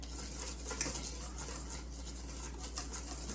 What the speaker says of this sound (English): Whisk this around. Get it all mixed.